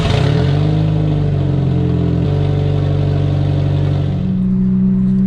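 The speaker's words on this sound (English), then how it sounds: "the car has a bit of an exhaust leak at the moment" A Nissan S15 with an exhaust leak revs close and loud, its engine note rising and shifting pitch in steps over a continuous raspy drone.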